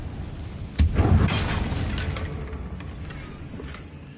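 A blasting curse detonates in a Hogwarts Legacy game scene near a damaged bridge, a single sharp boom followed by a crackling, debris-filled rumble that slowly fades over several seconds, with no talking.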